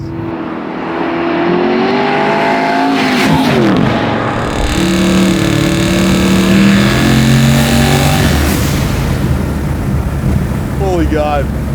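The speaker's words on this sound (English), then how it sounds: "And those blow-off valves." A 1,600 hp twin-turbo Chevelle restomod accelerates hard nearby, its engine rising in pitch through gears with whooshing turbo and blow-off valve releases, heavy wind noise over the microphone, and people talking over it.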